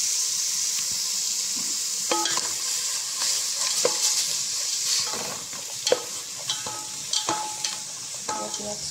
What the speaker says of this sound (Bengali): পেঁয়াজগুলো আমি একটু ভালো করে নেড়ে নেবো।